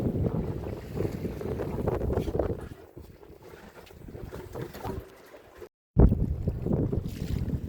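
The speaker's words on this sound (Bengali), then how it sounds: "প্রচণ্ড হাওয়া, এরপরে দাঁড়ানো যাচ্ছে না।" Strong wind buffets a boat on the water in the Sundarbans, roaring against the microphone in loud, uneven gusts with a brief lull and a short dropout before it surges back.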